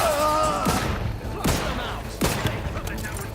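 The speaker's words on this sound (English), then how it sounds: "That was a grenade, I saw it." Explosions and gunfire in the video game Outer Worlds 2 come as several sharp, booming blasts about a second apart, loud and close over a busy combat background.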